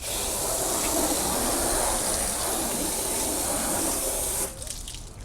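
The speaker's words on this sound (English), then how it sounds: "So I'll rinse down the fender well." A water hose rinses a truck's fender well with a loud, steady hissing spray that runs close and continuous for several seconds, then cuts off abruptly, leaving only a faint drip and rustle.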